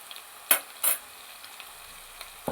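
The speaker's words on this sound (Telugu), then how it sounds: "దీన్ని చక్కగా పచ్చివాసన పోయేలాగా వేయించుకుందాం" Ginger garlic paste fries with onions in a pan under a low, steady sizzle. A couple of sharp scrapes from a stirring spoon cut through near the start and again at the end, close and with no speech.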